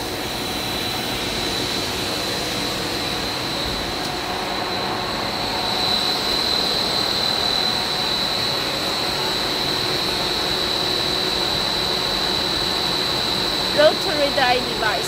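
A film blowing extrusion machine runs steadily with a blower and rotary die, giving a continuous broadband industrial drone with a high whine and a brief clatter near the end.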